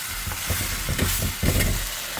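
Jackfruit curry being stirred in a pan, a soft sizzle broken by several spoon scrapes and thick wet stirring strokes, close and moderately quiet with no voices.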